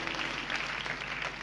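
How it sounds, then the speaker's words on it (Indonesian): A church congregation applauds together during a sermon in praise of Jesus, a dense, steady wash of clapping hands that holds evenly at close range. "Berikan tepuk tangan bagi Tuhan Yesus."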